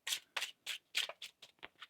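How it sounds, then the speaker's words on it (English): Tarot cards shuffled by hand in a series of about eight crisp riffling bursts, each a quick papery flutter separated by short pauses, close and clear with no talking. "One more shuffle, please, and thank you."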